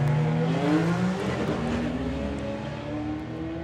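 Doorslammer drag race car launching hard down the strip, engine roaring with rising pitch, a brief dip as it shifts to second gear, then pulling again, loud and steady, heard from the stands.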